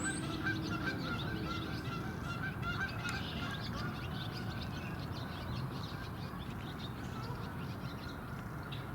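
A flock of geese honks loudly and steadily, their calls overlapping and close, near a construction site where a woodpecker was also seen. The honking continues without a pause, with a dense noisy bed underneath.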